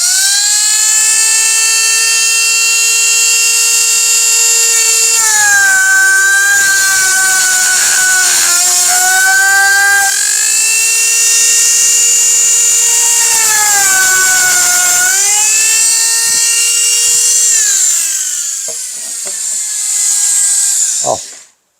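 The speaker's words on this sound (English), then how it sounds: "The Dremel works good. It's just not convenient to use." A Dremel rotary tool cuts through a cheese box with a loud, steady high-pitched whine that holds for about twenty seconds. Its pitch dips and recovers several times as the disc bites into the material, then it winds down at the end.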